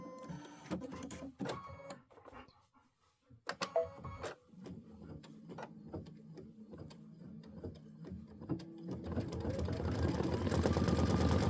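An Aveneer embroidery machine stitches out a design, giving a steady run of quick mechanical clicks and taps at close range, with a louder, denser whirring stretch toward the end.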